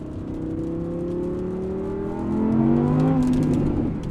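Audi R8 V10 Plus engine droning steadily from inside the car while driving through wet traffic in the rain, the note rising in a loud swell of revs midway before easing slightly.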